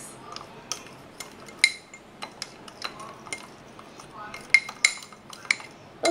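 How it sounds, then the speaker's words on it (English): Cutlery clinks and scrapes against a bowl while cake batter ingredients are crushed and mixed, giving irregular sharp taps and rattles spread across several seconds, close and fairly loud. "just going to make sure all the parts are crushed, so you don't have very much chunks in your cake"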